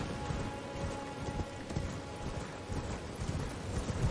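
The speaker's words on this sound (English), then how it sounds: "Riding my horse" Horse hooves clip-clop at a steady riding pace in a video game, a rhythmic run of soft thuds over a faint ambient wash, moderately quiet with no speech.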